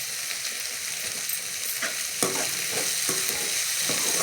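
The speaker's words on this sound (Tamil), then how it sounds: "பூண்டு சேர்த்து கொஞ்சம் நேரம் வதக்கலாம்." Garlic added to onions and curry leaves sautéing in a pan gives a steady close sizzle, broken by a handful of scraping stirs in the latter half, with no talk.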